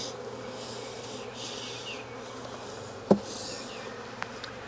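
Honey bees buzz continuously around a hive after a double swarm, a dense close hum with a single sharp knock partway through.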